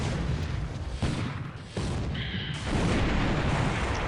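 Ship magazine explosion aboard the Van Ness in a naval war video game: a loud, sustained roaring blast with rumbling booms, a brief dip midway, then swelling again into a dense, continuous roar.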